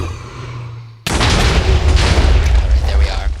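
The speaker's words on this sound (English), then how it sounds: "Sorry, I'm waiting for the explosion." An explosion in the video game Diversity 2 bursts in suddenly after a low hum, a loud, deep boom followed by a sustained rumbling roar.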